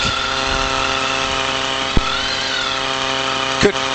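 A motorcycle engine runs steadily throughout a riding-training session, its continuous droning hum holding an even pitch with a brief knock near the middle and a short rise in revs near the end.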